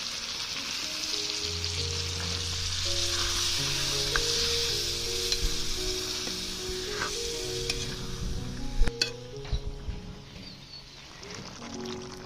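Chicken pieces with spices sizzle steadily in a pot after a little water is added for a biryani, a continuous frying hiss with faint scraping stirs and a few sharp clinks near the end.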